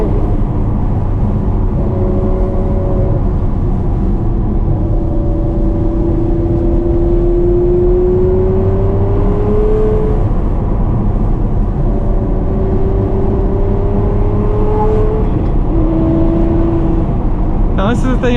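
A manual Ferrari 599 V12 drives and revs in a loud, steady engine drone with rising and falling tones, while someone talks over it throughout.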